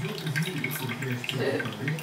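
Water runs steadily from a tap while a kettle is rinsed, a close, continuous splashing stream with small gurgles and shifts in flow.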